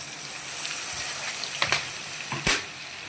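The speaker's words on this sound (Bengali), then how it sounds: "এবার আমি ঝোলের জন্য জল দিয়ে দেবো।" Water poured into a pan of cooking meat curry to make gravy, a steady hiss of sizzling with a few splashy bursts as the liquid hits the hot pan.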